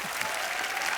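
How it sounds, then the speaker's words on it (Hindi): Studio audience at a Hindi comedy show clapping loudly, a dense, continuous burst of applause filling the whole moment. "एक बार जोरदार तालियां बच्चा के लिए"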